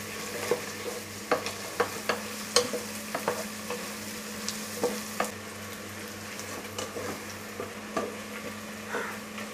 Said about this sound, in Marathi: यामध्ये आपण कांदा घालूया। आणि हा कांदा आहे ना तो सोनेरी रंगावर परतून घ्यायचा आहे।